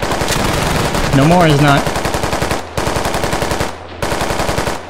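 Machine gun covering fire in a video game hammers out rapid, loud, close bursts that pause briefly twice between volleys, with a voice talking over the shooting partway through.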